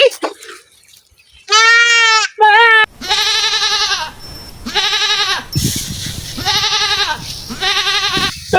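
Several loud, wavering goat bleats come one after another, each drawn out with a nasal quiver, separated by short pauses.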